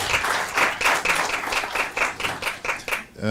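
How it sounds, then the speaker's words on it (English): Audience clapping after a presentation at a Department of Sport and PanSALB event, loud and fairly rhythmic with regular pulses of hands, fading briefly at the very end. "Let's give him another round of applause."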